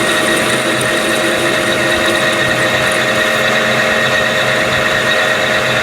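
A metal lathe faces off a workpiece, giving a loud, steady machining whir with a constant mechanical drone and no pauses.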